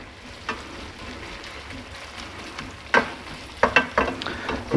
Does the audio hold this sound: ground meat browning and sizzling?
yes